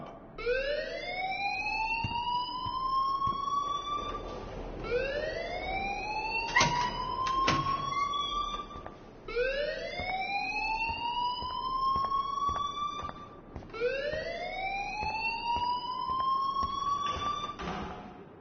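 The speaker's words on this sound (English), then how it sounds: "please turn off that alarm since that's your job" Rising, wailing electronic alarm from a school setting in a video game, four long upward-sweeping siren cycles repeating loudly with faint background noise and no talk.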